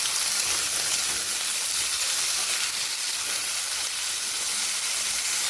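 Potatoes fry in hot oil in a pan with bay leaf, cardamom and cinnamon, giving a loud, even, continuous sizzle and hiss close up with no talking.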